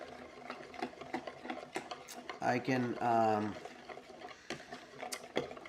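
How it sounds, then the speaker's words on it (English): A whisk or fork clicks quickly against a bowl as French toast casserole mixture is beaten and stirred, a steady, near tapping rhythm, while a man hums or vocalizes briefly over it. "let's go ahead and stir this up. While I'm beating it"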